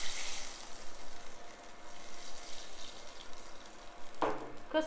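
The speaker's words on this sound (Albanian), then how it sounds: "atëherë ulim temperaturën dhe ja shtojmë 250 ml me ujë ftohtë" Cold water hits butter browning in a hot pan, a bright hiss and sizzle that settles into a quieter bubbling simmer, followed by a sharp clatter near the end.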